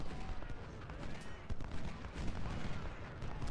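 Battlefield gunfire and artillery rumble continuously in the Civil War strategy game Ultimate General at Antietam, distant volleys and booms layered into a dense, steady din.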